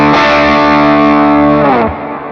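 An electric guitar played through a Fractal amp turned almost all the way down, with a drive pedal kicked on, rings out as a loud sustained distorted chord that holds steady and then shifts and fades slightly near the end.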